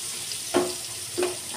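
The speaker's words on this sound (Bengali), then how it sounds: "পেঁয়াজ কুচিটা একটু ভাজবো" Chopped onion fries in a pan with a soft, steady sizzle, broken by two brief louder bursts about half a second apart as the pieces are stirred.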